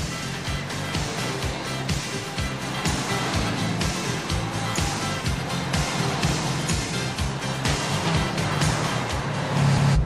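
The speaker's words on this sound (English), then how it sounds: "it was great fun driving this old VW bully through the Alps" An old VW bus drives through the Alps, with a steady, rattling engine drone and rhythmic low thumps running throughout at an even level.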